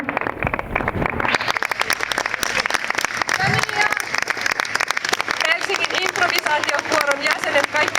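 An audience applauds the Helsinki Dance Company dancers on stage at a Night of the Machines event, steady dense clapping filling the whole stretch with voices mixed in.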